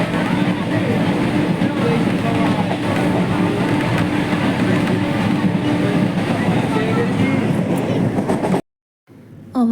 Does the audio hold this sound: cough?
no